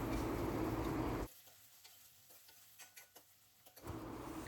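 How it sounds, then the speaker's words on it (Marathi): Curry leaves and onion fry in a little oil in a hot kadhai, a loud bright sizzle that drops away to quiet light clicks and stirring taps, then surges back at the end. "2 छोटे चमचे तेल टाकून कढीपत्ता आणि कांदा लालसर होईपर्यंत भाजून घेणार."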